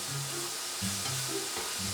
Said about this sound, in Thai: เราก็ผัดไปเรื่อยๆนะคะจนหมูเริ่มสุก